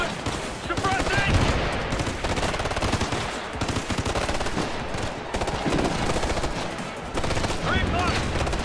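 Sustained automatic rifle fire rattles in dense bursts during a Ghost Recon Future Soldier firefight, loud and close, with shouted callouts over the shooting.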